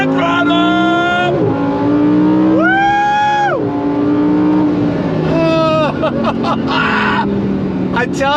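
A 2024 Lamborghini Huracan Sterrato V10 on off-road all-terrain tires accelerates hard, its engine rising loudly through several rapid upshifts with sharp revving sweeps and close, dominant exhaust roar.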